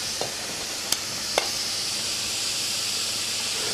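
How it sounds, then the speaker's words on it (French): Butter and sugar caramelizing in a frying pan give a steady, even sizzle and hiss throughout, broken by a couple of brief sharp clicks early on. "On met du beurre. On va essayer de caraméliser un petit peu."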